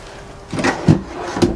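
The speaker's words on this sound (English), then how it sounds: "Also, nice full extension drawers here." Full-extension drawer sliding open in a 2014 Spree Super Light 230 travel trailer, a few short rolling and wooden knocks close by, ending in a soft thump.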